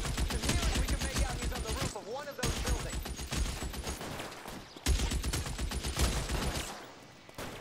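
Bursts of rapid machine gun fire in the video game L.A. Noire Remastered, loud sustained volleys with brief pauses between them, repeating several times.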